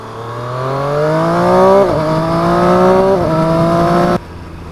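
An engine revs up loudly and climbs in pitch, dipping briefly at two gear shifts before rising again, then cuts off suddenly.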